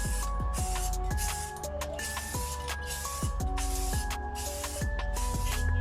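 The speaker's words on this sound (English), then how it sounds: "I'm just giving it light coats." Light coats of Rust-Oleum 2X spray paint hiss onto a truck interior panel of a 10th-generation Ford F-150, the close steady spray running in long bursts with brief pauses and faint tonal whines underneath.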